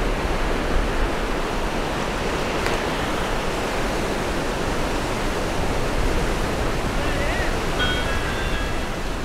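Steady roar of 2–4 ft south-swell surf breaking along a Baja point, a dense continuous wash of whitewater filling the whole stretch with no gaps, loud and close.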